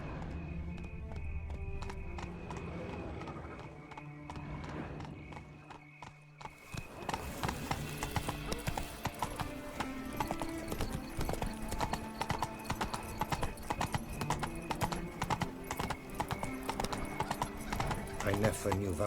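Geralt's horse Roach galloping in The Witcher 3: Wild Hunt, rapid rhythmic hoofbeats with a neigh, starting quieter and then pounding loudly amid game music, with voices speaking over it.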